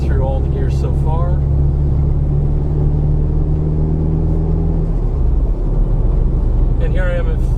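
A Nissan Pulsar GTI-R is driven and shifted through the gears, with a steady low cabin rumble and engine hum that changes tone partway through. Brief bits of a voice are heard at the start and end.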